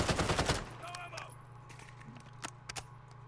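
Assault rifle firing in Call of Duty Modern Warfare, a rapid burst of close, loud automatic shots opening the moment, then a few sparse, fainter single cracks over steady low game ambience.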